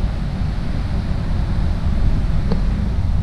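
Motors and water pumps run with a steady, loud low rumble and broadband hiss outdoors near a trail, continuous with no talk.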